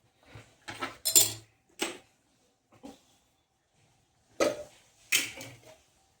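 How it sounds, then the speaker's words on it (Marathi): An iron griddle is set on a gas stove, giving several sharp metallic clanks and scrapes in separate bursts, close by and loud against silence. "मस्त ठेवूयात लोखंडाचा तवा"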